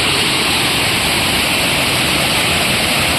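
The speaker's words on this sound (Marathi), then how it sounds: "हा बघा प्रवाह बघा पाण्याचा" A Konkan stream swollen with flood water rushes past in a steady, even wash of noise, close and constant, with no voices.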